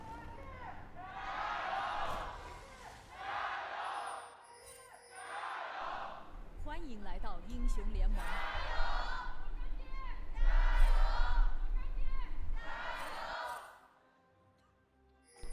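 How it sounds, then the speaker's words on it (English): A large esports arena crowd chants for LGD during a League of Legends LPL Summer 2024 Rumble Stage match against NIP. Loud rhythmic shouts repeat in steady waves, then cut off into near silence. "it sounded like a stronger chant towards LGD"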